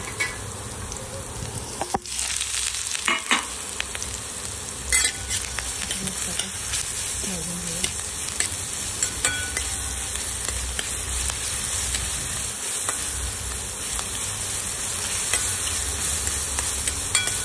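Onion and ground green chili thecha frying in a pan for red amaranth leaf bhaji, giving a steady sizzle with intermittent scraping stirs, close and continuous throughout.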